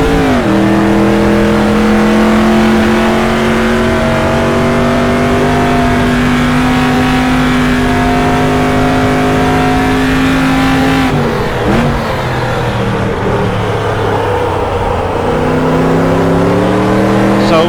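A racing truck engine in the sim game Automobilista SuperTruck roars loud and constant, holding a steady droning pitch, then dropping and climbing again as the throttle is worked, with someone talking faintly underneath.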